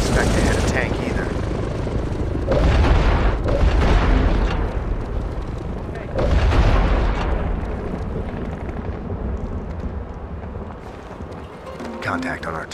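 Tank artillery shells explode in a SOCOM 4 battle, loud booming blasts that roll across a continuous roar of combat noise while people talk over it.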